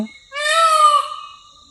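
A single loud, nasal peacock call, a rising-and-falling honking cry heard up close in a quiet setting.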